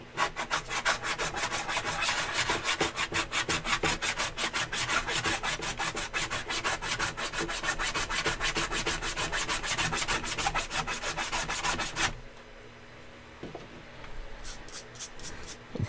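A file scrapes epoxy putty in fast, steady back-and-forth strokes, close and continuous for about twelve seconds, then stops, leaving quieter handling sounds and a few final short rasps.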